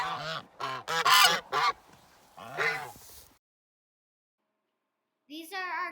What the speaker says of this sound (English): These are our geese,